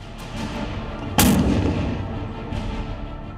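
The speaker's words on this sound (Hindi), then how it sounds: "धनुष नाम का ये तोप पूरी तरह स्वदेशी है।" The Dhanush indigenous artillery gun fires a single loud boom on a parade ground, with a sharp report and a rumbling tail over steady background noise.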